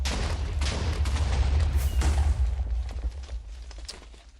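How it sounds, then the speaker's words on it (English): Explosions in a Minecraft hardcore survival world rumble in a dense, continuous series of deep booms and crackles, loud and close, fading slightly toward the end. "Yeah, we got some explosions."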